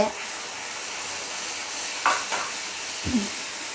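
Tamarind and jaggery mixture bubbling and frying in a pan for a bitter gourd pickle, a steady soft sizzle with a couple of brief stirring scrapes near the middle and end.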